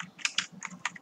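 Quick, close keystrokes on a computer keyboard while HTML and JavaScript code for a checkbox input is entered, about five crisp clicks in one second with no talking.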